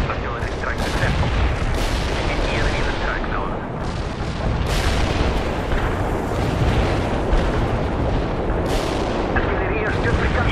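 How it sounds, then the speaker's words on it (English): Artillery strike explosions in World in Conflict, a constant barrage of deep blasts and crackling bursts, loud and dense throughout with a few sharper detonations standing out. "Artillery strike on the way."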